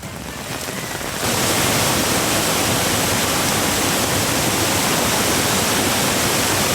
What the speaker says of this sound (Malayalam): തൃശൂർ ചേലക്കരയിൽ മലവെള്ളപ്പാച്ചിൽ